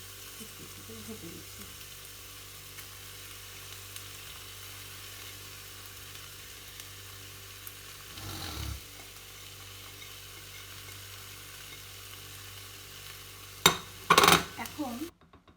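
Broccoli slides into a pan of frying salmon and sizzles with a low, steady hiss. Brief clatters of a utensil against the pan come midway and again near the end, and no one speaks.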